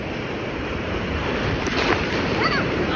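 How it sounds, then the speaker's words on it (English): Ocean waves break steadily at a beach beside a fishing pier, a loud continuous wash of surf with wind buffeting the microphone throughout. "Like, look at those waves."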